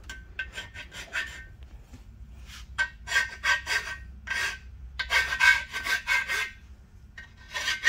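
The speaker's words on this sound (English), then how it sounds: "You can hit these registers if you feel the need and you want to just do a slight deburr on that." A hand file rasps against the bare metal of a Ford 302 engine block as its registers are deburred. Rhythmic back-and-forth strokes come in short close bursts with small pauses between them.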